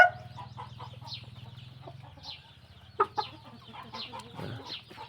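Pa Koi chickens on a farm, including two hens kept together, cluck and chatter in a continuous busy stream, with a couple of louder squawks near the middle and no talking.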